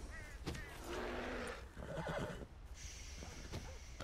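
A horse whinnies in the video game Red Dead Redemption 2, a quiet, drawn-out neigh over low ambient rumble, followed by faint hoof clops.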